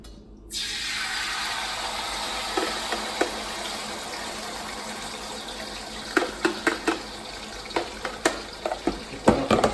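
Beef stir-frying in a hot pan for beef with broccoli, a steady close sizzle with scraping clicks and clatter of stirring growing more frequent toward the end.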